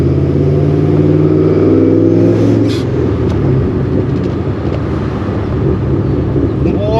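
A ProCharger-supercharged Mustang GT with a stick shift driven around the block, engine loud and close as it revs up in the first few seconds, then settles into a rougher, lower rumble.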